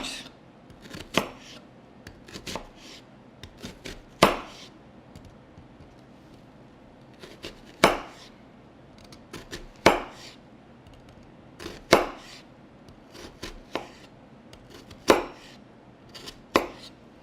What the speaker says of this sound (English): we are going to start out by cutting some slits in your onion